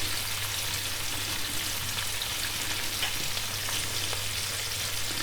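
Ingredients frying in hot oil for a turnip curry give a steady, close crackling sizzle, dense and even throughout, with faint pops and no voices.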